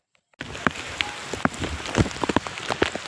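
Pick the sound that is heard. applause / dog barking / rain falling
rain falling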